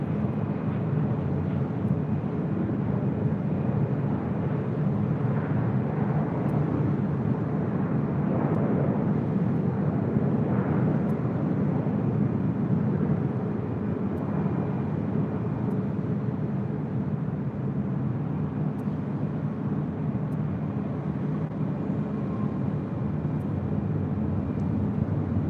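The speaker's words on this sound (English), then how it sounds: "That was Southwest Airlines Flight 2061 coming in from Tucson on the 737-700." A Southwest Airlines Boeing 737-700 lands at LAX, its broad jet roar holding steady and loud for the whole stretch, a dense rumbling rush with no voices over it.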